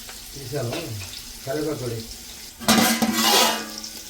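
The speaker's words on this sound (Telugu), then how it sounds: "ఇవి కొంచెం గోల్డెన్ బ్రౌన్ కలర్ వరకు ఫ్రై చేసుకుందాం." Onions frying in a pan for chicken pulao, with steady sizzling, stirring and scraping that swells louder toward the end, over background voice-like tones.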